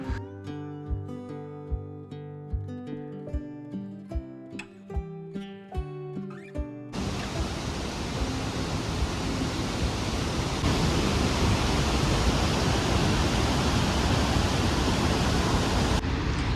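A waterfall on the Kheer Ganga trek near Kasol and Manikaran, heard as a loud, steady rushing roar of falling water that takes over after a few seconds of music and runs continuously to the end.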